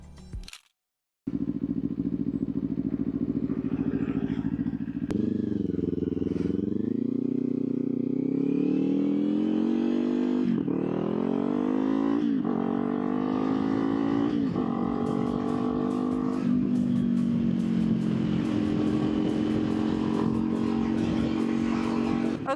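Kawasaki Ninja 500 SE motorcycle ridden from the saddle, a steady engine drone climbing through gears with rising and falling revs and wind rush, continuous and close after a brief quiet start.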